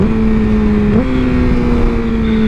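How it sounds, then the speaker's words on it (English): A Yamaha R6 sport motorcycle drops a gear, its engine note stepping up sharply near the one-second mark and then holding a steady, loud, close drone with no talking. "the downshifts on this thing are so nice"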